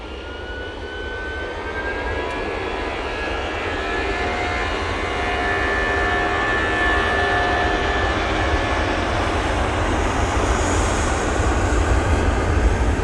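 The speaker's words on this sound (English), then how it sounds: "Lufthansa A321-200 going off to Frankfurt now." A Lufthansa Airbus A321-200 jet departs a snowy Manchester Airport with a steady, broad engine roar that holds at an even loudness and builds slightly across the whole stretch, with no voices over it.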